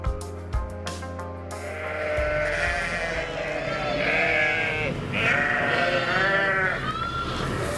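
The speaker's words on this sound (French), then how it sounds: "un troupeau de 350 brebis laitières de race Lacône" Lacaune dairy ewes from a 350-head flock on a sheep farm bleat repeatedly. Several loud, overlapping wavering calls come from close by over a constant barn hum, and an occasional voice sounds faintly in the background.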